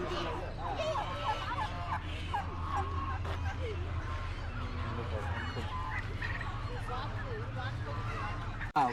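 Busy crowd of poultry at an animal market in Jeddah, Saudi Arabia, with ducks, turkeys and pigeons clucking, honking and gobbling at once over a steady low rumble and background chatter.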